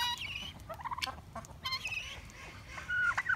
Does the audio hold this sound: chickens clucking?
yes